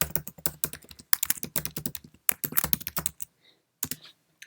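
Fast, continuous typing on a Mac keyboard, dense clicking keystrokes up close that thin out into a few scattered taps before stopping.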